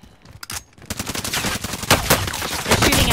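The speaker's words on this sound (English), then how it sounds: "They're shooting at me." Rapid bursts of automatic gunfire from Call of Duty: Modern Warfare, starting sparse, then growing into dense, loud, overlapping volleys that continue steadily to the end.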